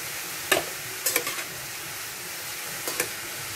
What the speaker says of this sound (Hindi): अब इसको मिक्स कर दीजिए